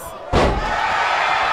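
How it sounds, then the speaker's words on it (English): Wrestler body slam in the WWE 2K video game during an NXT women's match, a single heavy thud on the mat followed by a sustained crowd roar, loud and close. "Kairi slams her down"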